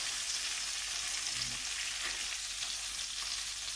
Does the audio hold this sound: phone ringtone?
no